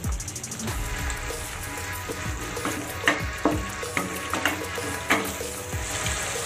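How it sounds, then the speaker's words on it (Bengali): A spice paste with cashews for a Bengali soybean malai curry sizzles and fries in a pan. It is stirred continuously, producing a steady close sizzle with repeated scraping knocks of the spoon against the pan, and no one speaks. "মশলাটা কিন্তু অনবরত নেড়ে চেড়ে কষাতে হবে, কারণ যেহেতু কাজু বাদাম দেওয়া আছে নচেত নিচে লেগে যেতে পারে।"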